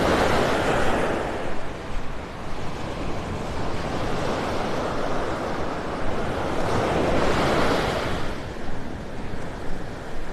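Ocean surf rolls onto a beach in North Naples, Florida, with a continuous wash of waves swelling in broad surges, mixed with steady wind rushing over the microphone and no voices.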